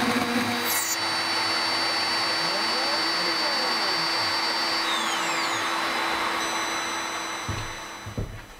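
A CNC machine cutting out a fretsaw frame, with a loud sustained whining motor and cutter drone, a steady tonal hum beneath, tapering off near the end with a few knocks.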